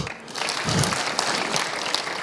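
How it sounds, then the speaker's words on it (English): A conference audience at a Rwandan science and technology event claps for a presenter, dense even applause from many people in a hall, fairly soft and sustained, with no voices over it. "And can we clap for Christopher?"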